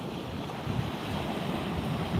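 Sea surf rolling onto the beach at Hollym, a steady broadband wash with wind buffeting the microphone, swelling slightly louder toward the end, with no voices.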